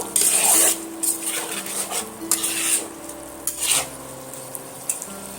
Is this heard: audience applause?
no